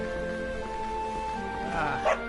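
Dog in the video game Dragon Quest XI: Echoes of an Elusive Age giving a short bark or yip near the end, over looping game music.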